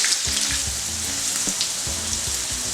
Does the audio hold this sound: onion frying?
yes